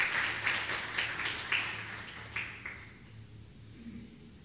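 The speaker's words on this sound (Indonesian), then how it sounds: "Tepuk tangan yang meriah buat Tuhan" Applause for God during a church youth and teens worship service at GBI Eben-Haezer, scattered clapping from a congregation, fairly distant and modest, fading out within a few seconds into quiet room sound.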